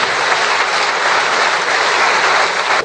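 A packed audience at a pastors' graduation ceremony claps loudly and steadily, a dense unbroken wall of applause that holds at full strength throughout.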